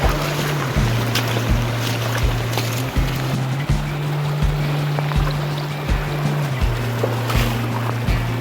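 A stream flows through jungle during rain in the Barda hills near Ranavav, producing a loud, steady rushing wash of water with a low, pulsing drone underneath.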